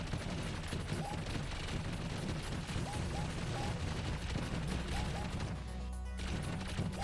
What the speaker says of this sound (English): Keep shooting. Keep firing